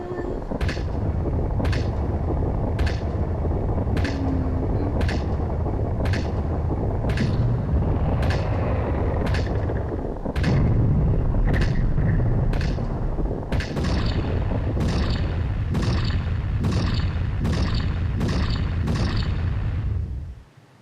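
Fireworks burst at the midnight carnival in the video game Majora's Mask, a regular series of sharp cracks and pops spaced about a second apart over a dense, loud ambient background, with no voices.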